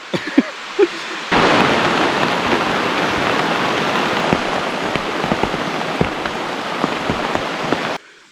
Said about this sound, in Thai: เพื่อนครับฝนตก